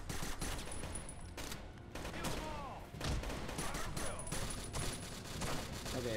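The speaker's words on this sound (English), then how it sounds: "this submachine gun is a lot better" Rapid submachine gun fire in the video game Rainbow Six: Shadow Vanguard, dense overlapping bursts running almost continuously at close range, with someone talking over parts of it.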